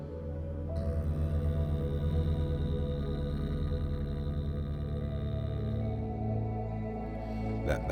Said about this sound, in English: we'll hum the exhale out with our lips closed